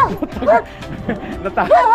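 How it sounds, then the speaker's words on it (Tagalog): A dog gives a few short yipping barks and whines, close by at a roadside spot, with people talking around it. "May aso."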